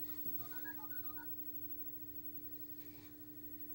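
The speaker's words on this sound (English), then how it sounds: "That was the phone dialing." Telephone dialing tones at the opening of a Disney VHS tape sound as a short, quiet run of beeps early on, faint beneath a steady hum and hiss.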